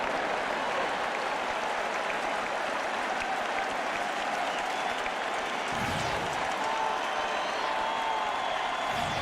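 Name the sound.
baseball stadium crowd cheering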